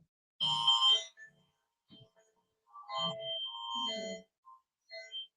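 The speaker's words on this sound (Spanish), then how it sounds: "Es la alarma." An electronic alarm beeps in short bursts of bright, ringing tones with brief gaps between them, loud and close in an otherwise quiet indoor room.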